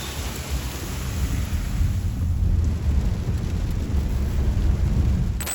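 Heavy rain falls during a flash flood, with a dense, steady roar of rushing water and wind-like noise that swells slightly and continues without a break, with no voices.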